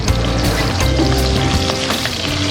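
Ginger sizzles in a hot pan alongside onion and garlic, a loud, steady frying hiss that runs unbroken from start to finish, close up, with no voices.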